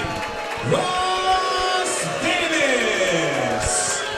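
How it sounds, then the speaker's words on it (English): A crowd at a Premier MMA Championship bout sends up a loud, sustained mix of booing, shouts and whoops for about four seconds, with voices rising and falling across the arena. "The crowd doesn't like it"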